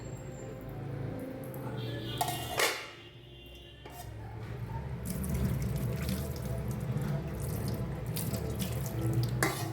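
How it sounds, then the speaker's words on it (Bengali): Tap water runs steadily into a kitchen sink while a pot lid is rinsed under it, a close continuous splashing rush with a brief clatter and a dip partway through. "এই যে এটাকে এবার ভালো করে ধুয়ে নিই আরেকবার।"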